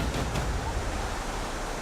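A Balinese waterfall roars as a steady, loud, broadband rush of falling water, continuous and unbroken with no voices over it.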